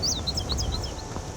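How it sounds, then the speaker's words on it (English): Indigo bunting song in the video game Skyrim, set in a pine forest: a quick run of high, sweet paired chirps, moderately loud over a low ambient background. "indigo bunting"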